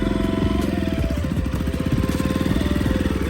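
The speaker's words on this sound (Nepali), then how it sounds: "अब चाहिँ सन्दीपले बाइक चलाउँदैछ मेरो है" A motorcycle is ridden by a beginner on a first try. It gives a close, continuous low engine drone with a steady pulsing throb, running alone without speech.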